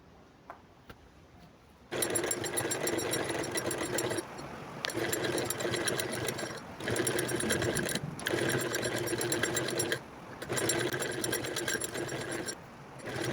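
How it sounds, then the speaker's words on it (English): A sewing machine stitches a pleat in a turban, running in steady, loud mechanical bursts of rapid needle clatter, separated by brief pauses. "So we go to our machine. We are going to sew the second pleat."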